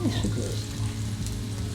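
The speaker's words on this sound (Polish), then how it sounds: "pięknie się smaży" Food frying in a pan while cooking in Zakopane, a steady close sizzle that runs unbroken for the whole moment, with a faint voice in the background.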